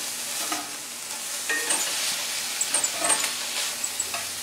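Liver and onions frying in a pan make a steady, hissing sizzle throughout, with faint crackles and occasional soft stirring scrapes, close up and with no speech.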